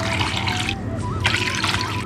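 Water pours into jaggery in a pot while making parippu pradhaman, a continuous close trickling splash with a faint background voice.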